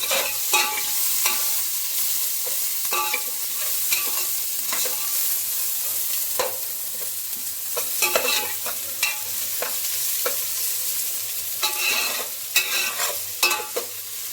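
Onions for beresta fry in a pan and are stirred, with repeated scraping strokes over a continuous close sizzle and no voices.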